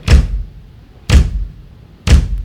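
Three evenly spaced bass drum kicks with the beater left pressed into the head, loud and close, each a punchy low thud that dies away quickly with a short, muted tail.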